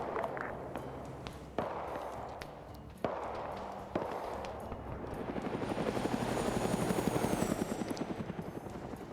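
A helicopter in the Arma 3 game, its rotor chopping rhythmically and building louder toward the end, with a few sharp clicks and thumps punctuating the steady beat and no speech.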